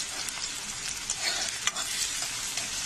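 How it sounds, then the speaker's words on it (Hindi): Onion fries in hot oil in a kadhai, making a close, steady sizzle with light crackles and stirring scrapes. "अब इसमें मैं कांदा फ्राई करूँगी।"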